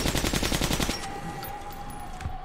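Rapid automatic gunfire in Metro Last Light, a quick burst of about ten evenly spaced close shots that stops abruptly, leaving a faint steady tone and low ambience.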